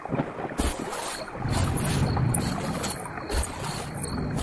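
A boat crosses a river, with rumbling low water and hull noise under gusty wind buffeting the microphone, swelling and easing in irregular waves, no voices.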